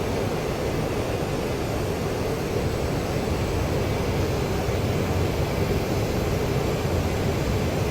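An AJS37 Viggen jet engine in DCS World heard from the cockpit as it throttles down to about 80 percent, a dense, steady broadband roar filling the whole clip at constant loudness, no talk.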